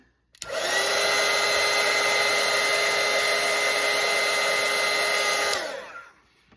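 A hair dryer runs to dry watercolour paint, a close, loud and steady whirring blow that starts abruptly, holds an even tone for about five seconds, then cuts off and spins down, with no talking.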